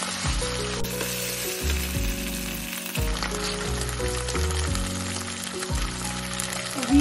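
Red chillies frying in oil for sambar, a steady crackling sizzle heard under prominent background music.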